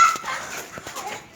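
A puppy gives short, close yips and whimpering cries, clustered in quick bursts with no talking over them.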